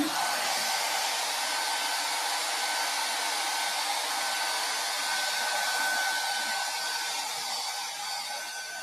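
A hair dryer blasts hair during a blow-dry after washing, a loud, steady close-up roar with a faint whine that runs unbroken for nearly nine seconds before easing slightly at the end.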